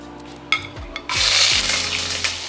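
Ginger dropped into hot olive oil in a pan, a few soft knocks followed by a sudden loud burst of sizzling that carries on steadily up close, with no talking.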